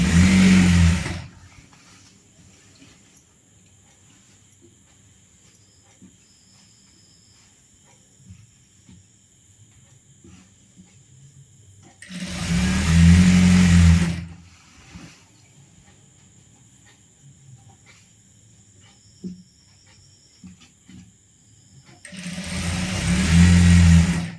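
An electric sewing machine stitches four stacked churidar fabric pieces together in three short, loud motorized bursts, each a second or two long and separated by long quiet gaps.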